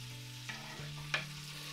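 Chopped onion and whole garlic cloves fry quietly in a pan for a homemade pinto bean and chorizo stew, with a soft sizzle, two brief stirring scrapes and a steady tonal hum in the background.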